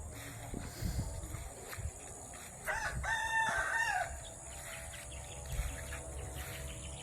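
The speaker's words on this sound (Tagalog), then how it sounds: "mga manok" A rooster crows once in the middle of the clip, with chickens and insects faintly in the background around it. The crow is moderately distant and set against a quiet rural backdrop.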